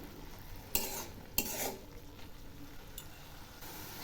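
Red amaranth greens with garlic paste are stirred in a pan: a couple of sharp utensil scrapes and clinks stand out over a faint, steady sizzle, quiet and close, with no voices.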